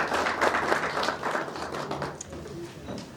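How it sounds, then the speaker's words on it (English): An audience at a formal gathering applauds steadily as a director arrives, a dense wash of clapping that gradually thins and fades out. "Let's give him a round of applause as he comes."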